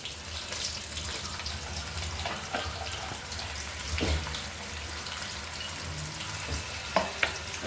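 Onions, dried red chillies and mint leaves sizzle and crackle in a hot oil pan for pudina tomato chutney, a steady close fry with occasional stirring scrapes and a few sharp pops near the end.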